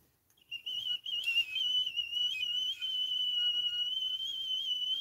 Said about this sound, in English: It's the kettle.